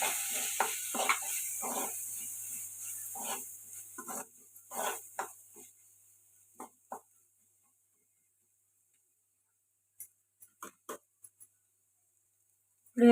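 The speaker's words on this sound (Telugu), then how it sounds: "ఇప్పుడు ఎలా ఫ్రై అవుతున్నాయి కదండి" Coriander powder and chili powder fry in a pan with a soft sizzle and stirring clicks that fade out, leaving a few scattered taps and a quiet stretch.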